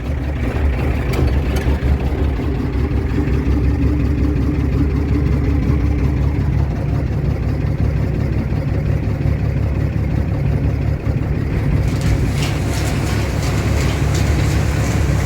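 A heavy old tractor engine idles steadily at close range, a deep continuous rumble with a faint rhythmic chug, no voices.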